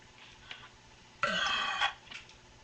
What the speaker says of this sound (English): we're gonna start with burping when you have your mouth closed